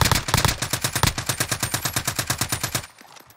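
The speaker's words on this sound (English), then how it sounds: "So he shot through the wall" Rapid automatic gunfire in Warzone, a long steady burst of evenly spaced loud shots fired through walls, running for nearly three seconds before cutting off abruptly.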